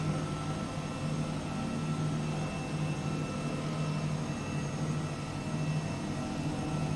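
H135 helicopter in Microsoft Flight Simulator, a steady droning turbine and rotor hum throughout, constant and unbroken as it spools for takeoff.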